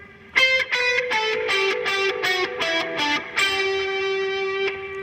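Distorted electric guitar plays a fast solo run from a song. Quick picked notes climb through the phrase, then one held note rings out with sustain, played alone at moderate volume.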